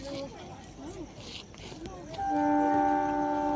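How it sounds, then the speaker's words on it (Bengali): A train rumbles into a station, then its horn blares loudly and holds steady while people talk nearby. "এখন আমাদের ট্রেন ঢুকে গেছে এই যে ওই যে ট্রেন আসছে"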